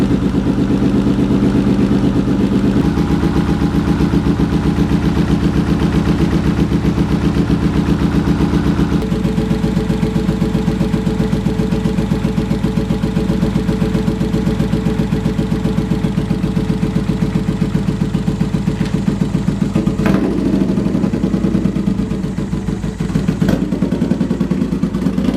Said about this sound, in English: Let's fire this thing up and see if it's going to work for me